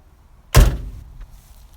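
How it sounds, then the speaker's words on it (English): A 1970 Volkswagen Karmann Ghia door swings shut with a single solid, close thump, followed by a brief fading rattle. "door shuts good and solid"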